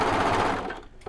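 A serger overlocker stitches a lettuce edge hem on fabric, its motor whirring steadily up close and loud, then tapering off near the end as the stitching runs off the fabric.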